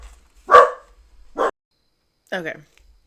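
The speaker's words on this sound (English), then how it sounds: "I just got food delivered. My dog freaked out." A pet dog excited by a food delivery gives three sharp, loud barks spaced about a second apart, close by, with near silence between them.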